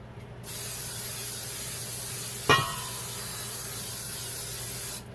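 A continuous aerosol spray hisses for several seconds as a pan is lightly greased before meatballs go on, with a brief clink of metal midway; quiet and close, no voices.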